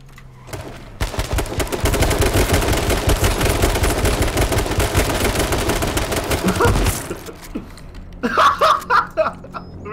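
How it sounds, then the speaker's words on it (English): Rapid bursts of automatic gunfire in the survival shooter H1Z1 pound almost continuously for several seconds, then cut off, followed by a few quieter scattered clatters and thuds. "Shots behind us"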